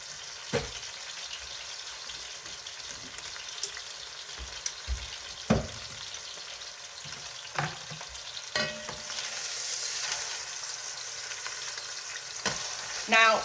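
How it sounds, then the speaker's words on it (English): Beef pot roast searing in a pot of hot fat, a steady low sizzle and crackle running throughout, with a few sharp pops and clinks of a utensil scattered across it. "Now, while this is searing, it's gonna start caramelizing the fat that is naturally in the meat"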